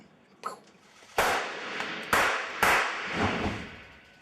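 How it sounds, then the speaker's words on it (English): Small squib charges fired under a shirt for a staged bullet-hit blood effect on a film set: three sharp, loud pops with noisy tails, preceded by a fainter tap, close and alone. "Fires off, the little explosion goes, we get a hole, blood comes pouring out."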